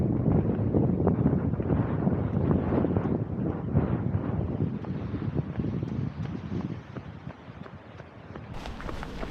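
Strong wind buffets the microphone while a runner moves along a coastal cliff-top path into a breeze, a loud, continuous low rumble with gusting surges and rhythmic footfall thuds, easing slightly near the end.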